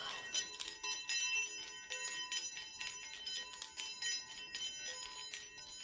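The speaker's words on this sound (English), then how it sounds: "this is just my sound bell as well" A small sound bell rings continuously in a quiet room, a bright, shimmering run of rapid strikes that lasts about six seconds, fairly faint with no voice over it.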